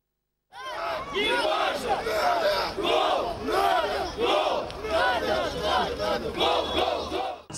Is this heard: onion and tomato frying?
no